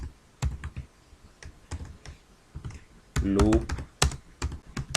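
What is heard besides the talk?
typing a line of code on a computer keyboard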